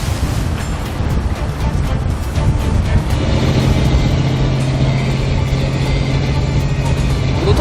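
A fishing boat off Ulleungdo on rough sea, with a loud, constant wash of churning water and engine rumble blending into a dense roar and no clear break.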